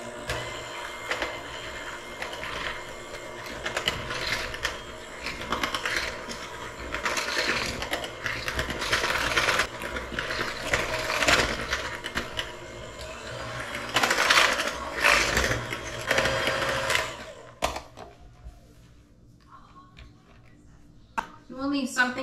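Chocolate cake batter being stirred in a bowl, a busy run of scraping, clicking and rattling for about seventeen seconds that then drops away to quieter handling noises.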